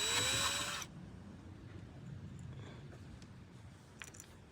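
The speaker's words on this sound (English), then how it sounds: "The secret to drilling that out is to use new sharp drill bits." A power drill bores out a snapped brass steam arm on an Atomic coffee machine, whining loudly for under a second before cutting off and leaving quiet workshop rustles and small clicks.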